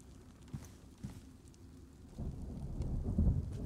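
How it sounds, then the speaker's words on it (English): Thunderstorm with rain in a roleplay video game: a faint, steady patter of rain with low thunder rumbles that grow louder and heavier toward the end, with no voices. "About to storm."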